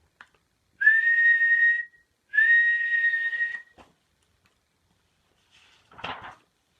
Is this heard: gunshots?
no